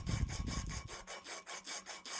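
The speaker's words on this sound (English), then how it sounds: "So just get your piece of sandpaper here and really get the edges" Sandpaper scrubs the edges of a copper pipe clamped in a vise, with about eight quick back-and-forth rasping strokes, close and fairly quiet, and no voices.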